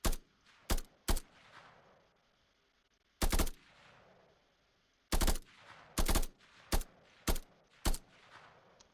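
Shotgun firing bursts in a video game, loud separate blasts in irregular groups, some doubled, with quiet pauses between them and no talking.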